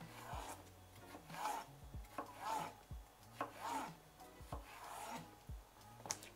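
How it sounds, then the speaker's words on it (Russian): A knife slicing cucumber thinly on a cutting board, a quiet series of regular crisp taps roughly every half second, close and alone. "Нам надо совсем немного огурца, буквально несколько вот таких вот полосочек. Все, и нарезаем теперь"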